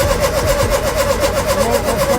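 A Ford Capri with a reconditioned engine cranks steadily without firing, the starter churning in a fast, even rhythm close by and loud.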